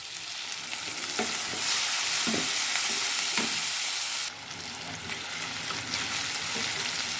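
Chicken pieces frying in hot oil with turmeric and ginger-garlic paste, a steady loud sizzle close by, broken by occasional scraping stirs of a spoon in the pan.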